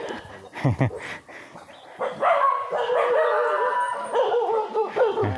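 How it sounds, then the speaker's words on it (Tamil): A dog barks and howls in a forest tribal village where leopards and elephants roam, with rooster-like crowing mixed in and sustained wavering howls dominating the latter half. "எங்கே போனாலும் நம்மளை ஒரு நாய் கூப்பிடுது"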